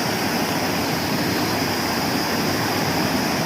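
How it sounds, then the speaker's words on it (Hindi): A waterfall beside a mountain path with small hotels and restaurants, heard as a dense, even roar of falling water that stays constant and loud throughout with no voices. "देखिए वाटरफॉल।"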